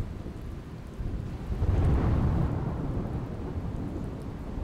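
Heavy downpour across Aravalli district in Gujarat, a steady loud roar of rain with a deep rumble of thunder swelling in the middle and slowly fading, no voices.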